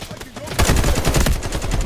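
Rapid automatic gunfire in the shooter game Delta Force, a loud close burst of dense repeated shots lasting over a second, with a faint voice underneath.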